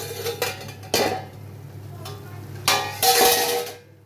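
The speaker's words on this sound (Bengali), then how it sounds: "এটা চাপা দিয়ে দেবো, চাপাটা নামিয়ে নিচ্ছি" A metal lid clatters onto a pot of green mango chutney and is later lifted off, with several sharp close clanks and scrapes between quieter pauses.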